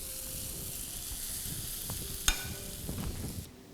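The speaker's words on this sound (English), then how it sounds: "I'm going to give it one good mix" Tomato masala sizzles in a pan for squid masala, a steady hiss with soft stirring scrapes and one sharp clink of the spoon, heard alone and close.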